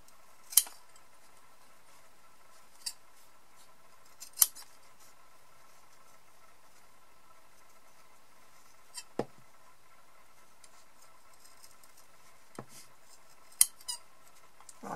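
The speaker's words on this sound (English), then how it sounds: "I'm going to cut them together so they're fairly similar looking" Scattered sharp scissor snips cutting felted wool for a needle-felted teddy, a handful of crisp isolated cuts spaced seconds apart over a quiet background.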